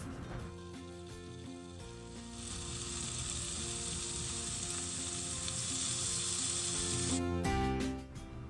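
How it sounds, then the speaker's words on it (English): Chicken seekh kebabs sizzling on an oiled non-stick tawa, a close hiss that swells and holds steady, then cuts off near the end as a few clattery knocks follow. "Now heat a non-stick pan or tawa, apply some oil and place the kebabs on it."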